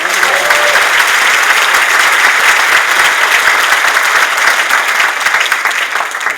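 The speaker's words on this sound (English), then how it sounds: "deserve another round of applause, ladies and gentlemen" Sustained, dense applause from an audience at the 1st Annual WILLCO Awards in 2015, steady and loud throughout with no talk over it.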